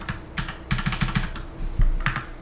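Computer keyboard keys are pressed in quick, uneven bursts of crisp clicks, close and clear, with brief pauses between flurries of taps.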